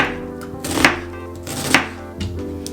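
A knife slices through an onion on a cutting board in a few distinct, crisp cuts, each a sharp close thunk spaced about a second apart, with no talking.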